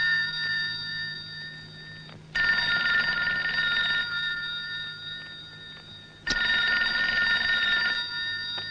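An old-style telephone bell rings at night in two long loud electric bursts separated by a pause, heard close and alone without talk.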